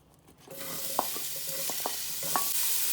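Chopped onion hits hot oil in a pot for a Moroccan-style stew, a broad sizzle swelling up after a quiet start and holding steady, with a few spoon scrapes and knocks as it is stirred.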